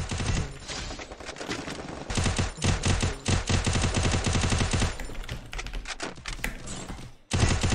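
Dense gunfire from the video game Free Fire crackles in rapid bursts and continuous automatic volleys. The shots are loud and close, with a brief pause near the end before firing resumes.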